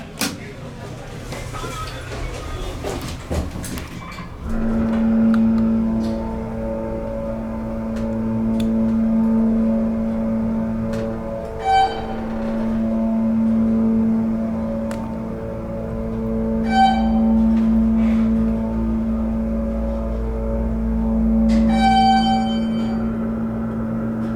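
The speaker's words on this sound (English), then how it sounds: "Love that motor. That motor is just as epic like that original baggage claim elevator." An ESCO hydraulic parking garage elevator at Houston Hobby Airport, its motor and pump giving a steady hum with a repeating tonal whine that rises and falls in cycles, fairly close, with some talk at the start.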